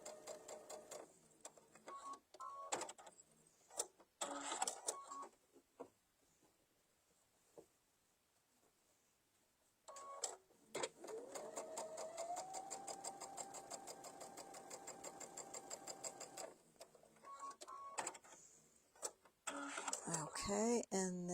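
A sewing machine stitching a table runner runs in short bursts, then in one long steady whirring run, and stops between bursts. Quiet handling noises and pauses come in between.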